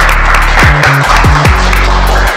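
A classroom of students claps for a student group, loud and close, with a strong low hum and tonal swoops running underneath the clapping.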